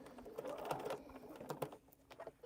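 A sewing machine running a test seam to check stitch length, giving a brief fast mechanical clatter with a muffled hum at close range.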